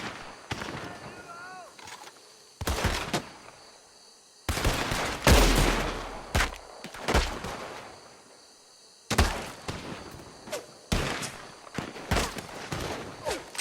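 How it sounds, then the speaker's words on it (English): Gunfire in Red Dead Redemption 2, loud sharp shots in scattered bursts and single cracks at a shooting range, some in rapid clusters, with gaps of quieter ambience between. "Christ alive! You're shooting across the range."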